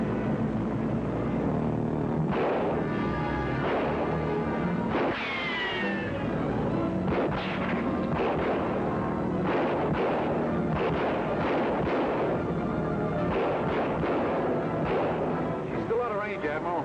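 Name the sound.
ship gunfire in a film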